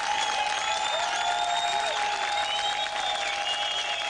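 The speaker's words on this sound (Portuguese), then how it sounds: "Vamos a mais um aplauso, por favor," Studio audience applause for the finalists of a televised quiz show, a steady dense wash of clapping and crowd noise that carries on without a break.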